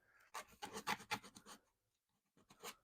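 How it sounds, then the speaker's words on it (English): Sandpaper rubbed against a cork trekking pole handle to smooth an edge gives a quick run of about six rasping strokes, a short pause, then two more, close and fairly quiet. "Let's get into this sandpaper here. The first thing, I got to get this edge smoothed down here."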